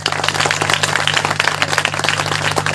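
A church congregation claps in unison during worship, a brisk rhythmic patter of many hands over a steady low electrical hum.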